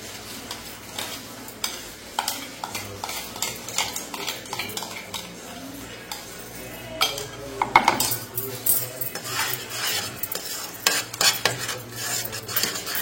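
Puree of potato, cashew, tomato and onion is added to hot oil with fried onion and stirred, giving a continuous sizzle with frequent metal spoon clinks and scrapes against the pan, no speech.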